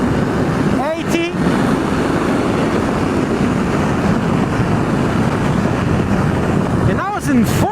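A Kawasaki GTR1400 motorcycle accelerating smoothly in fourth gear at speed, a loud continuous engine drone buried in heavy wind roar, with brief rising whines near the start and the end, and a rider talking over it.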